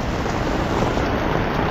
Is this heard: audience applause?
no